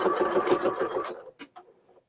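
A sewing machine stitches binding onto a quilt in a fast, steady mechanical whir for about a second, then stops, followed by a few faint clicks and taps of handling.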